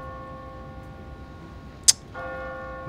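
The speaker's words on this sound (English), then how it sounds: "What kind of church bell goes off at 20 past the hour?" Automatic church bell on a timer in The Walking Dead game, heard as steady sustained ringing tones with a single sharp strike midway before the tone resumes, with no voices.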